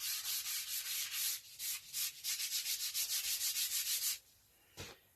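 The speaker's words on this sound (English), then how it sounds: "And I do not use any power tools on doing this, when it comes to the sanding especially." Wooden English longbow hand-sanded without power tools, rhythmic rasping strokes back and forth in a steady run, close and clear, ending in a pause and a single short scrape.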